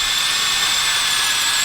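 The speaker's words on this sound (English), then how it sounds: "We're using a right angle drill." A right-angle drill bores into the steel frame of a 2019 Jeep Wrangler JLUR while rock sliders are installed, giving a steady, loud, high-pitched whine that holds evenly with no talk.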